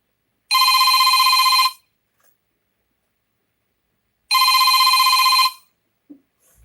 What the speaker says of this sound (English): phone's ringing, but it'll just have to wait.